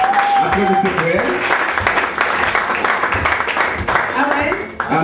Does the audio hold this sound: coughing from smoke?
no